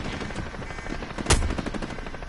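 Video game gunfire, a rapid rattling stream of shots at moderate volume with one stronger crack in the middle, over steady background noise.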